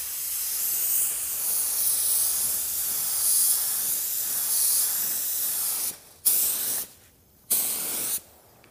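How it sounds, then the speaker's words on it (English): Spray gun laying a base coat of car paint onto a body panel, a steady loud hiss for about six seconds, then three short bursts separated by brief silences. "we'll apply our first coat of paint"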